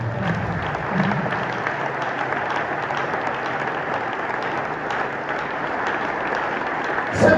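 A church congregation in Congo claps and cheers in acclaim for the king of Israel, a steady, full roomful of applause running throughout with crowd voices mixed in, loud and continuous.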